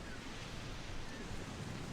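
Steady ocean surf washing onshore with wind buffeting the microphone, a continuous broad rushing wash heard close and fairly loud, with no voices.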